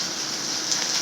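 Steady hiss of onions or spices sautéing with salt in a pan for a spicy chicken curry, a continuous close frying sizzle with no talk.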